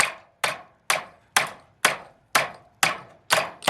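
A hammer strikes metal corner trim on a steel-clad shed, eight sharp, evenly spaced blows about half a second apart, each ringing briefly and fading, close and clear with no talk.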